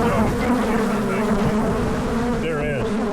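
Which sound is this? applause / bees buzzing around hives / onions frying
bees buzzing around hives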